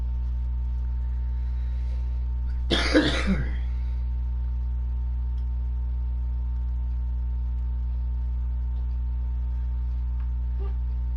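One short, harsh cough or throat clear breaks an otherwise quiet room with a steady low electrical hum.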